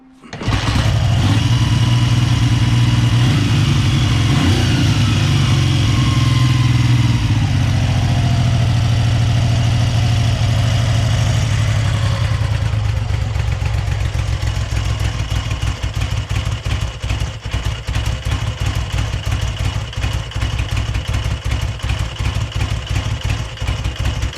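A 1969 BSA Rocket 3 triple, just blipped on the throttle, settles into a loud, steady, slightly uneven idle close by, a sustained rumbling beat with a faint clatter and no voices.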